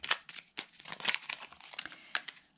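An oracle card being drawn from an angel card deck, heard as close, quiet crinkling and shuffling rustles in quick irregular bursts.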